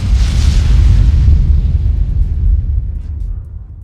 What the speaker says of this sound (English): Explosions are fun.